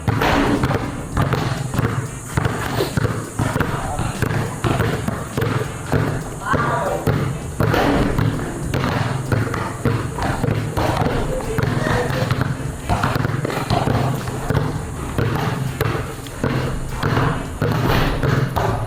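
Two basketballs dribbled on a covered court thud in a fast, steady stream of hard bounces, with voices talking over them throughout.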